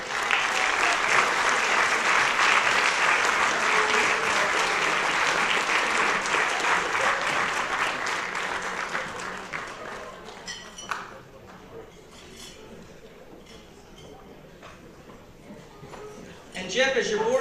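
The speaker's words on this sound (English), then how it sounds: "Let's give a round of applause to the Board of Directors." A community celebration crowd gives a round of applause for the Board of Directors, a loud sustained clapping that tapers off after about ten seconds, leaving quieter room noise and scattered sounds, with a voice near the end.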